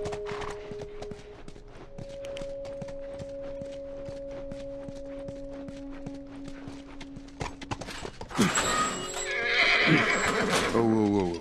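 Hooves clip-clop in a steady walking rhythm under a low hum, then a horse lets out a loud, shrill neigh near the end, in the video game The Last of Us.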